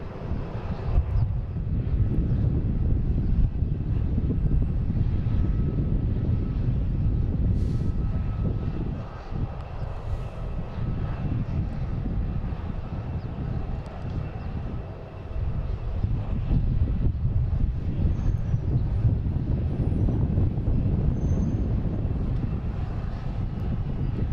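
An American Airlines Embraer E-175 jet takes off at Boston Logan heading to Rochester, a loud sustained engine roar with broadband rumble, steady throughout with brief dips, gusty wind buffeting the microphone.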